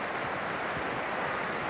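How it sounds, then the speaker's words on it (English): Football crowd at The Valley, Charlton Athletic's ground, cheering and applauding in a pre-match tribute; a steady, broad roar of clapping and cheers with no pauses. "the biggest pre-match cheer was reserved for Clive Mendonca"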